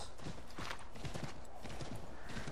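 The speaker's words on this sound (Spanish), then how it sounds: "¿Dónde está mi caballo? Ah, está mi caballo." A horse gallops in the video game Assassin's Creed 3, its hooves pounding in a dense, rapid clip-clop at close range over steady background noise, without speech.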